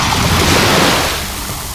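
A steady, loud rush of spraying water, broadband and hissing, fading slightly toward the end with no voices.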